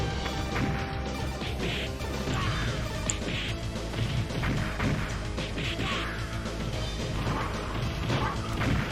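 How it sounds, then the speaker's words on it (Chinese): Grenade blast in the arcade beat-'em-up Cadillacs and Dinosaurs: loud, crunchy smash-and-crash game effects with repeated thuds and hits over a busy arcade soundtrack. "手雷扔下来把自己炸了"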